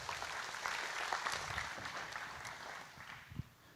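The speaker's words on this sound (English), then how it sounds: "quick round of applause to the team who worked on this." At a tech conference, an audience gives the team a brief round of applause, a faint, scattered clapping that tapers off near the end.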